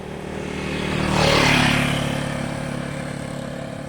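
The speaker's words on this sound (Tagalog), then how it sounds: "May motor." A motorcycle approaches along a countryside road, swells to a peak as it passes close by, then fades steadily into the distance.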